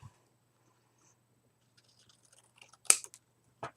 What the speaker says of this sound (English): I'm just going to trim the edge off of there.